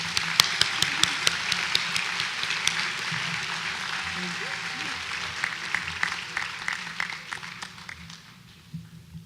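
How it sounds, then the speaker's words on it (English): Audience applause at the Gavilan College 2017 graduation ceremony, a full round of clapping that thins into scattered individual claps and fades out near the end. "one last round of applause for our lifetime members"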